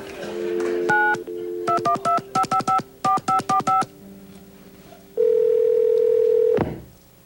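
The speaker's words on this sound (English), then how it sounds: "let's call Keanu right now and tell him the good news" Several short bursts of telephone keypad tones dialing a number, each a quick paired beep, followed by a long steady dial tone that cuts off abruptly.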